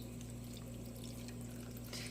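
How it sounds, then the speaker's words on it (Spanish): About half a cup of water is poured into beef cooking on a lit stove for a squash-and-beef dish, making a steady, even splash that runs unbroken for a couple of seconds. "Y le voy a poner aproximadamente media taza de agua"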